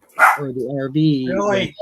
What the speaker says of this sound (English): Oh, that's our dog.